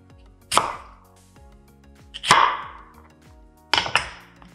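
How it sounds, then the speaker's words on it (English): A knife cuts a whole white onion into quarters on a cutting board, three sharp separate chops spaced about one and a half seconds apart, close and clear against a quiet background. "One whole white onion. You're gonna do just quarters."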